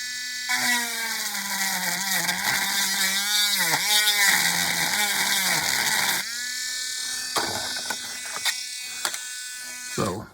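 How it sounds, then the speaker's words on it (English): A power drill whines steadily as it bores into really thick plastic, its pitch dipping and wavering as the bit bogs under load, then shifting to a rougher, lower grind before stopping; loud and close. "I'm drilling into really thick plastic there."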